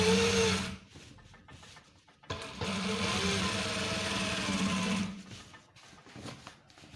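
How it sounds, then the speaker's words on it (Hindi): Sewing machine stitching a long trouser seam on police uniform pants, running in sustained whirring bursts separated by short pauses, close and fairly loud with no talking. "इसी तरह से फुल लंबी आखिर तक सिलाई लगा देनी है।"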